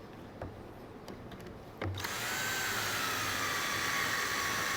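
A power drill drives a screw into a table joint. A few sharp clicks and taps come first, then the motor spins up into a steady, close whine that holds to the end.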